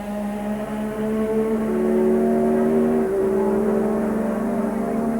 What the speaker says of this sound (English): a right royal battle going on for 3rd place between the Renault-powered Ligier, the TAG-powered McLaren, and the Honda-powered Williams, all of them V6s